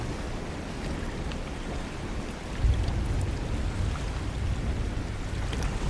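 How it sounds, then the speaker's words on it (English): Thunderstorm with rain in ARK: Survival Evolved: a steady wash of rainfall with a low rumbling swell of thunder midway, continuous and moderately distant, no talking. "Sounds like we've got a thunderstorm going on."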